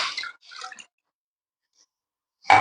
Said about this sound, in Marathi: त्याच्यामध्ये नॉर्मली एक ग्लास पाणी ओतायचं